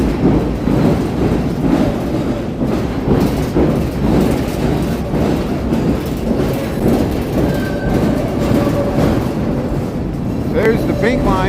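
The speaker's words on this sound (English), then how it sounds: "So this is an L train intersection." A Chicago L elevated train rumbling past at a street intersection, a loud steady roar of wheels and cars with faint squeals, heavy city noise throughout.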